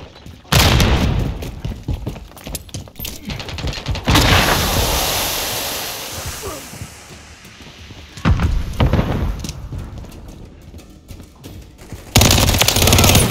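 Gunfire in the Call of Duty Modern Warfare 3 video game on Mercado Las Almas, dense loud bursts of automatic fire and blasts that roll on with brief lulls between volleys.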